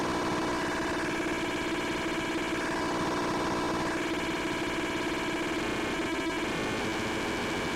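A DIY Turing machine synth, its LFO pushed to audio rates, pours out a steady wall of harsh, noisy distortion, a dense crackling static that never lets up.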